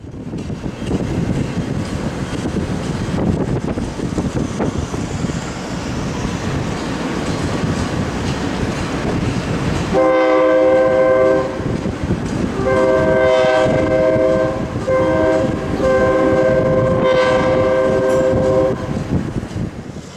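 Santa Cruz and Monterey Bay Railway locomotive 1101 rumbles past at close range down Walker Street, Watsonville, and midway a loud multi-tone horn starts blaring in repeated long blasts over the steady rolling noise.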